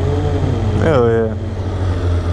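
A motorcycle holds a full wheelie down the road, its engine revving in a rising, wavering whine over a constant low rumble, with excited voices nearby.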